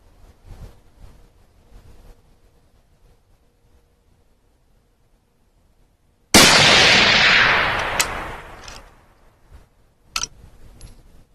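A single loud rifle shot from a 6.5 Grendel, fire-forming 7.62x39 brass, cracks out after several seconds of quiet handling noise, followed by a decaying echo and a few small clicks.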